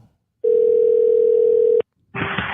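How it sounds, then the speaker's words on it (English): A phone call's ringback tone plays as one long steady electronic beep, loud and clean, followed by a short silence and then a noisier burst as the line connects. "It's ringing."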